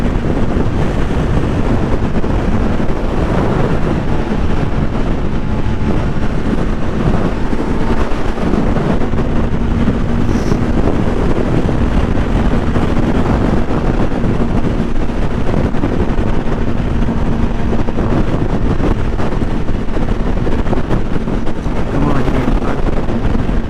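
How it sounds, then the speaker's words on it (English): A 2020 Kawasaki Z900 rumbles on the move, its exhaust drone steady and continuous under heavy, constant wind buffeting against a helmet-mounted camera microphone, loud throughout with no break. "I'm just gonna probably have the exhaust sound on just to see"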